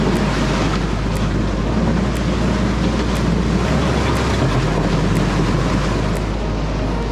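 Strong wind on a sailing boat moving through a channel: a loud, steady roar and heavy buffeting close to the microphone, with low rumble and water wash underneath and no talk.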